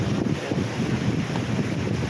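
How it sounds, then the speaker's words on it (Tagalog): Strong wind buffets the microphone at the seaside, a steady loud roar with low rumbling gusts and a hint of waves beneath, no voices. "Mahangin!"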